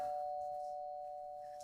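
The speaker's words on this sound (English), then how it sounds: "I hear doorbell." Doorbell chime sounding as a guest arrives on a television game show set, a single steady tone held and slowly fading, faint and alone.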